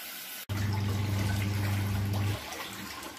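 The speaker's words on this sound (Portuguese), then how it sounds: "Senão a água fica escorrendo e não vai encher a máquina." Water rushes steadily through a mini washing machine, loud and close, with a low mechanical hum underneath that cuts off partway while the water keeps flowing.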